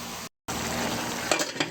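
Steady bubbling and sizzling vegetable broth with chayote in a pan, a continuous close crackle with a brief silent gap and a few soft utensil clinks near the end.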